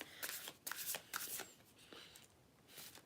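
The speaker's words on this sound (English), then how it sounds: "now we're going to pull some oracle cards" A deck of oracle cards is shuffled softly at close range, in a few quick riffling bursts followed by quieter rustling.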